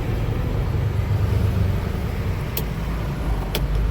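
Road traffic flows steadily close by, with a constant low engine rumble and a brief high-pitched squeal or horn burst near the end; no one speaks.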